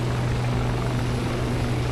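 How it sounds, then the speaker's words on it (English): A Shergood S/H92 helicopter in a video game, engines running after startup: a steady, droning rotor and turbine hum with strong low tonal bands, constant and close, with no talk over it. "That is a successful startup of the S or H92."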